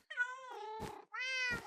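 A cat in Minecraft 1.20 gives two drawn-out meows close up, each ending in a breathy rasp, with a brief pause between them.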